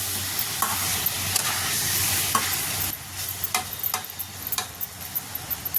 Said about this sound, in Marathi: छान तेलामध्ये चांगलं परतून घ्यायचं आहे.